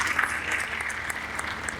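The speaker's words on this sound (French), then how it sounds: "Applaudissements franchement mérités" An audience at a seminar on intelligence in the digital age claps steadily for a professor in a short, dense burst of applause.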